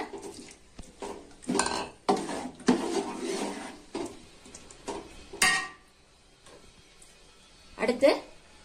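Chicken biryani ingredients, including meat marinated for half an hour, being stirred together in a pot, with several bursts of scraping and clanking from a metal utensil between pauses, and a voice talking in between.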